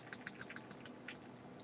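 Keys tap on a computer keyboard while code is entered in an editor, giving a quick, even run of about ten soft, close clicks against a quiet background.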